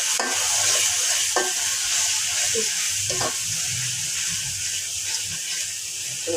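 Spices frying with beef and potatoes in a pan, a steady hiss with a few spatula scrapes and knocks, close and fairly loud with no talking.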